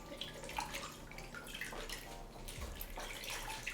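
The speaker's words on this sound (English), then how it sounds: "Then we'll give it a rinse." Half a head of cabbage being rinsed under a running kitchen tap, a steady close splash and patter of water with faint drips, fairly quiet and with no talk.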